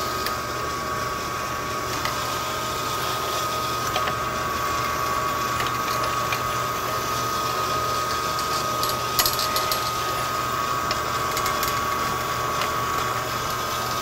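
A grinding stone machine runs steadily, giving a constant loud mechanical hum and whir with a fixed tone and a faint rattle throughout, close by, with no pauses.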